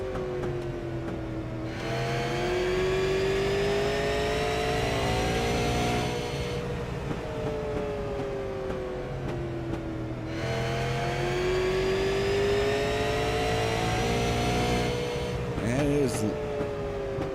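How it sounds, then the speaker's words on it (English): Onboard stock car engine at Irwindale Speedway during a race, loud and continuous with rising and falling revs as the car cycles through laps, gears whining up and dropping back, a brief clatter near the end. "we're going to drop you down into the gyro cam, see if we can get you aboard Bill Martin's car"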